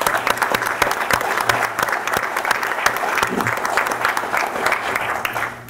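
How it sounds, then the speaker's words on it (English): Audience applause at a Yonkers Police Department graduation ceremony, a steady dense clapping from a large crowd that carries evenly throughout with no speech over it. "so if everyone can just give them a big round of applause"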